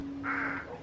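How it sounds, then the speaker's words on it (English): A bird gives a single short, harsh call at close range in Tsum Valley, Nepal, over a quiet outdoor background. "There were some animal movements and sound of birds to be heard."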